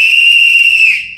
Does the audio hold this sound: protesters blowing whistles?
yes